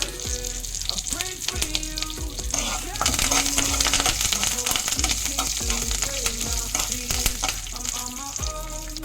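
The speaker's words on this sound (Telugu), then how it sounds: "తర్వాత కరివేపాకు వేసుకుని వేయించుకోవాలి." Curry leaves crackle and spit loudly in hot oil, a dense steady sizzle with occasional clinks of stirring.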